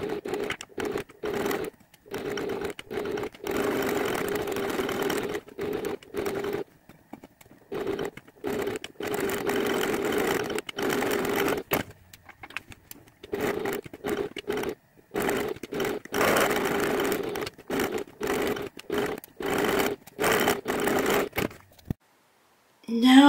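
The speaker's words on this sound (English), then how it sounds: "I'm just going to take this to the machine. I'm going to start stitching here." A sewing machine stitching fabric for a handmade memory bear, running in bursts of rapid, even whirring that start and stop repeatedly with brief pauses, close and steady, with no talking.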